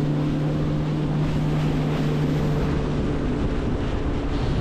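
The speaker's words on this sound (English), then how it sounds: "We got a major wind today" Strong wind blows over a lake, heard as a loud, steady roar of gusting air and microphone buffeting that fills the whole clip, with a low motor hum running underneath and no speech.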